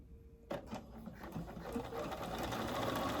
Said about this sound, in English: if I were to go back to, say, the straight stitch and start sewing